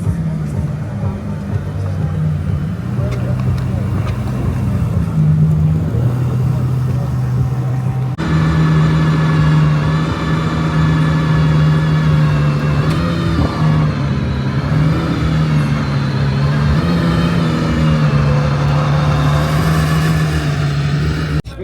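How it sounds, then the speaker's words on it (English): A Ferrari LaFerrari hypercar engine turns over and settles into a loud, close idle with low humming tones, rising into revs partway through, amid the din of a large hypercar gathering. "Then the LaFerrari has started it up."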